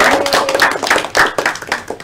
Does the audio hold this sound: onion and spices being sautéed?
no